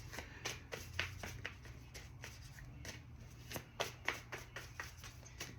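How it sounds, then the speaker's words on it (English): A deck of tarot cards is cut and shuffled by hand, producing quiet, rapid riffling snaps and taps in an uneven rhythm, close by and faint. "I'll cut the deck"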